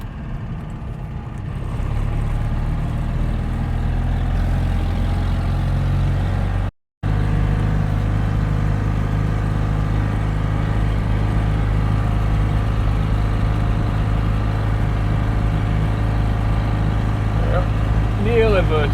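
A Citroën 2CV's small engine droning steadily in third gear while climbing a steep 1-in-4 hill at about 50 km/h, a loud, even, low hum heard from inside the car.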